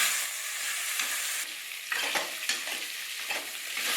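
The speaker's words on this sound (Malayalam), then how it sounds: "അടുത്തതായിട്ടിടാൻ പോകുന്നത് അരിഞ്ഞു വെച്ചിരിക്കുന്ന കിഴങ്ങാണ്. ഇത് അല്പനേരം ഇളക്കാം." Chopped potatoes tossed into a pan with browned onions, frying for aloo gobhi, sizzle steadily while a spoon stirs through them, scraping and clattering in irregular bursts close by.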